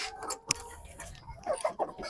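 Chickens clucking near a farmyard where turkeys are kept, short soft clucks and calls arriving in quick irregular bursts, close by, over light background noise.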